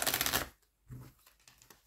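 Oracle cards are shuffled by hand for a reading: a brisk riffling burst, then a pause and a few softer slides and taps of the cards, with no speech.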